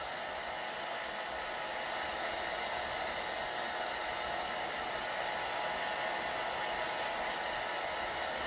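A heat tool blows a steady, loud whooshing stream of air to dry chalk paste on stenciled leaves, running continuously from start to finish with no talk over it.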